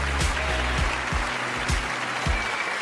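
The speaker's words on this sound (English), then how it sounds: "Whatever, put the applause on." A canned applause sound effect plays as a steady wash of clapping, with low thumping and a faint voice mixed in beneath it.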